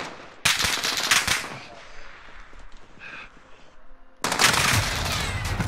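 Rapid automatic gunfire from the Call of Duty video game comes in loud, dense bursts, breaking off for a quieter stretch of scattered shots and noise before another heavy volley.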